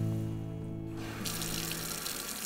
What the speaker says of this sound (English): when you turn on the faucet